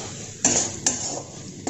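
A spoon scrapes and clinks against a tawa pan while spices for a potato filling are mixed, a few sharp metallic knocks over a low background hiss.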